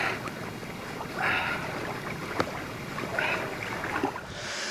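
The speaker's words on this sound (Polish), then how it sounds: "Pomimo, że wiatr wieje." Outdoor wind gusts buffet the microphone in uneven rushes at a cold-water swimming spot, rising and falling over a constant outdoor roar.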